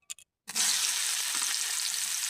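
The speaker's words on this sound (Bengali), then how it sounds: "সয়াবিনগুলি ভাজে নেব।" Soybean chunks hit hot oil in a pan and start frying, setting off a loud, steady sizzle that runs unbroken after a couple of brief clatters, close up with no talk.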